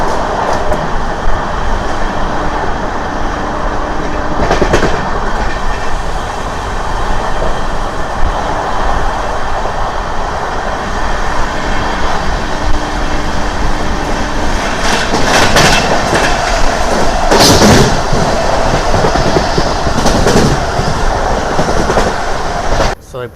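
Amrit Bharat Express train on its inaugural run, heard from onboard as a loud continuous rumble with rhythmic clickety-clack of wheels over rail joints and occasional squeals and bursts as it passes a station.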